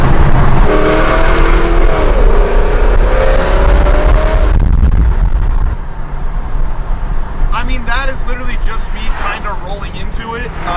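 A loud, deep muscle car exhaust on a boosted Chevrolet SS rumbles and roars steadily up close while cruising, with a voice speaking over the noise in the later part.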